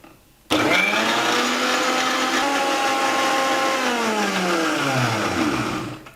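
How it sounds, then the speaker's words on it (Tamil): A kitchen blender grinds carrots with milk for carrot juice. It kicks on abruptly into a loud, steady whirring drone whose pitch sags and shifts as the mixture churns, then winds down at the end. No voices are heard. "இதோட கொஞ்சம் கொஞ்சமாக பால் ஊற்றி அரைக்கணும்"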